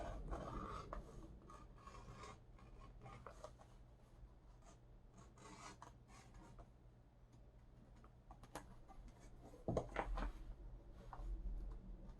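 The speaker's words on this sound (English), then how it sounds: "Back to our pocket, we're going to sand that down." A leather briefcase pocket is sanded by hand with a soft, continuous close rasping and rubbing, fairly faint, with a few louder scrapes near the end and no speech.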